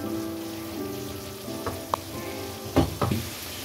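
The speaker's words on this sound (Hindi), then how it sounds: "इसमें ये जो आलू के गोला कबाब है वो शामिल कर दें। इसको थोड़ा सा मिक्स कर लें।" Aloo gola kababs (potato balls) sizzle steadily in a frying masala curry, with a few sharp clinks of stirring near the pan. No one speaks.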